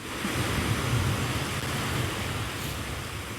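Steady, rushing surf washing onto the shore on the Isle of Harris, Scotland, a continuous broad roar with some wind noise, fairly soft and unbroken.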